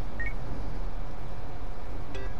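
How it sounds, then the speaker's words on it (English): Phone dialing tones in the video game Yakuza: Like A Dragon, two or three short electronic beeps heard faintly over a loud, dense low rumble of background game sound. "Kasuga, call me on your phone"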